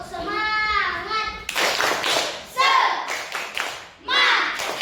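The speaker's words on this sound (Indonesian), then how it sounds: "Tepuk semangat." Children in an Indonesian classroom perform the rhythmic 'tepuk semangat' clapping chant, with bursts of hand claps alternating with young voices chanting along.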